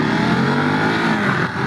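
A 2022 Ducati Monster motorcycle accelerating hard, a loud close engine roar whose pitch climbs steadily over a short burst with no talk.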